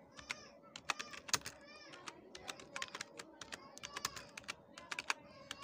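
Quick bursts of computer keyboard typing, close and fairly quiet, clicking in irregular runs as a description is typed out.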